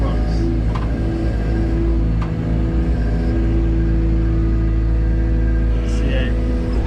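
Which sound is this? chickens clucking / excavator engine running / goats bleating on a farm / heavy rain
excavator engine running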